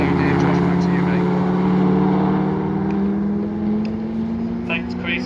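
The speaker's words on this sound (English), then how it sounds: "The V8 engines powering these cars." Ford GT40 V8 race cars at Brands Hatch produce a loud, steady engine drone that climbs slightly in pitch, with background talk underneath.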